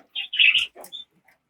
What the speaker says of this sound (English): any number of birds down here in the sunshine enjoying a bit of last afternoon sun.